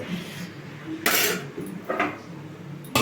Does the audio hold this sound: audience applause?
no